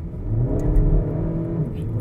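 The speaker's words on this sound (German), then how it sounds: "man hört auch den Motorsound" A Skoda Octavia RS estate accelerates hard, its engine rising in a loud, close, throaty drone that holds steady over a couple of seconds with no talk.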